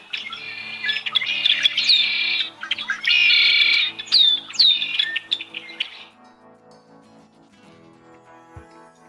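A black-capped chickadee gives an agitated alarm call, a loud close chick-a-dee with many buzzy extra dee notes strung together for several seconds, then it stops, leaving near silence.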